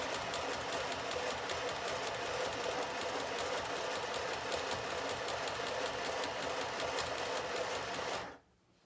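A sewing machine stitching a seam on a kids' sewing lesson, giving a loud, close, steady rapid clatter that runs continuously before stopping abruptly near the end.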